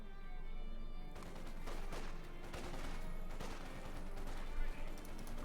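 Machine gun fire and other battlefield gunfire in the Company of Heroes 2 real-time strategy game, a dense continuous clatter of overlapping shots and blasts with a louder burst near the end.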